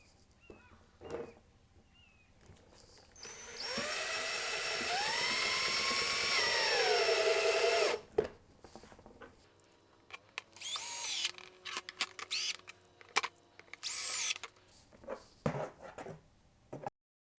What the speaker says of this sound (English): we're going to take some self-tapping screws and go ahead and screw them in so we know it's never going to fall off